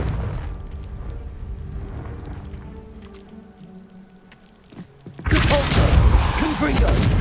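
A Confringo fire spell in Hogwarts Legacy bursts into a sudden loud fiery blast after a quieter stretch of low rumbles and faint thuds, then keeps roaring with crackling energy to the end.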